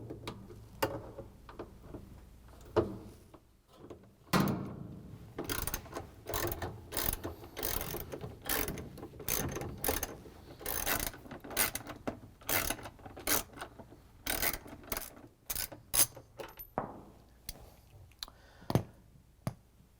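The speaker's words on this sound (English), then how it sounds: "we're going to use a 3/8" socket with the ratchet and the extension again to take out the 3 bolts that hold the drain" Rapid ratchet clicking in bursts from a 3/8-inch socket ratchet with extension backing out the three bolts on a GE washing machine drain pump, close and fairly loud with short pauses between runs.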